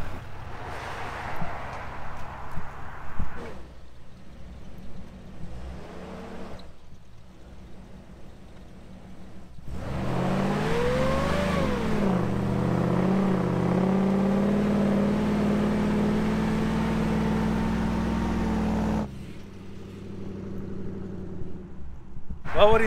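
A Dodge Ram pickup truck accelerates hard in a pull, its engine roaring steadily loud for about nine seconds with climbing pitch, framed by cabin noise and people talking before and after.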